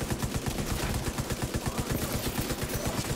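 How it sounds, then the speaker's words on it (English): Rapid, continuous automatic gunfire from The Division 2 video game, dense sharp bursts repeating steadily for the whole stretch, loud and close with no talking. "Less talk and more shooting."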